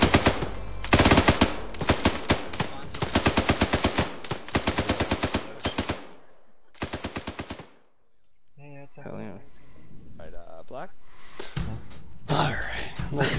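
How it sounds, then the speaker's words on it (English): Rapid bursts of automatic gunfire crackle in close, repeated strings, followed by a lull, then scattered shots with voices and radio-like chatter mixed in, along a road during a training exercise. "Shots northwest along the road."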